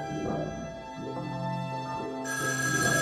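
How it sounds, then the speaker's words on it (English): A telephone rings in the video game Shivers 2, a continuous electronic bell tone that brightens partway through. "You want me to answer the phone?"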